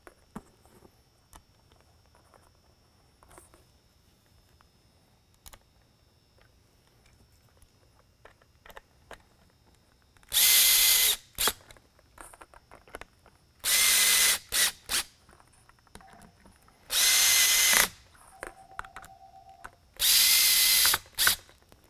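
A power screwdriver drives screws back into a Whelen 500 V-Series 3-in-1 Super-LED lighthead housing: four loud, close bursts of whirring, each a couple of seconds long, separated by quieter handling clicks and taps.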